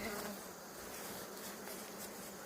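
Honeybees buzzing around a hive, a steady dense drone of many insects held continuously at low level with no voices.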